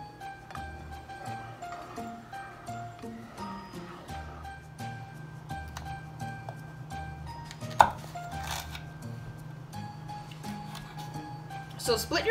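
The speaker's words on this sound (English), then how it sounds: "So split your serranos in half, and just go ahead and just cut out the inside" A knife splits serrano peppers and cuts out their insides on a cutting board, giving a few sparse, light taps against a steady low hum and background sound.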